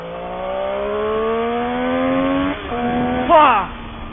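A Triumph 675 Daytona motorcycle pulls hard in second gear from 3000 rpm, its engine note climbing steadily and loudly, then dipping briefly with a sharp upward rasp near the end.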